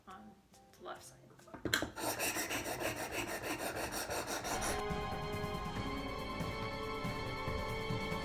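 An oboe reed knife is scrubbed up and down on a Wicked Edge sharpening stone, making rapid rhythmic gritty rasping strokes that start after a few quiet taps and settle into a continuous close grinding scrape.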